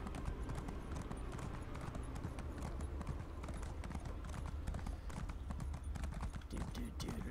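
Continuous rhythmic hoof clatter like a galloping horse in The Elder Scrolls Online, dense and steady under the game soundscape, with some talking mixed in.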